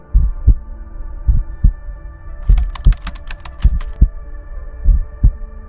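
A heartbeat sound effect thumps in a slow, regular double pulse, deep and close, repeated about eight times. A short burst of high rattling clicks cuts in midway through.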